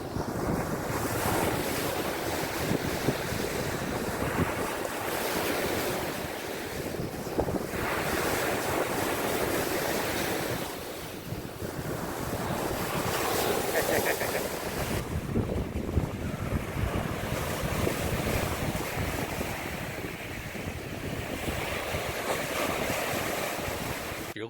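Surf breaking on the Lake Superior shoreline at a township park campground in Michigan's Upper Peninsula, a steady close roar of waves with gusty wind buffeting the microphone throughout and no voices.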